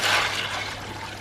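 Water drains and pours out of a backed-up koi pond filter, a brief continuous rushing wash that starts strongest and eases slightly, close and alone.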